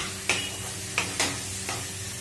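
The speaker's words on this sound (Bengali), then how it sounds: "টমেটো দিয়ে ভালো করে নেড়ে চেড়ে" Chopped tomatoes added over turmeric sizzle in a pan on raised gas heat while being stirred, with four sharp scraping strokes of the spatula over a continuous low frying hiss.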